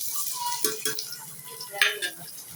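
Onion, tomato, green chilli and curry leaves are stirred in a pan, with quiet scraping and rattling of a spoon against metal and a faint sizzle, in soft, irregular strokes close by.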